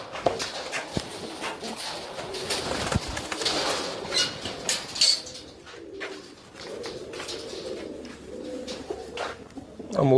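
Soft pigeon cooing repeats through a busy outdoor pigeon-flying competition, with other bird calls and some background voices mixed in.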